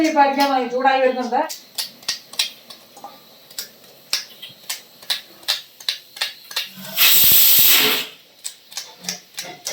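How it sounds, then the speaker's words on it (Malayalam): A pressure cooker on a home kitchen stove lets out one loud, steady hissing whistle of escaping steam for about a second, amid sharp ticking and clicking noises, with a voice heard briefly at the start. "കുക്കർ ഇനി അടിക്കാൻ തുടങ്ങും കേട്ടോ"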